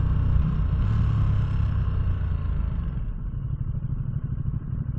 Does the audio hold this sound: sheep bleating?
no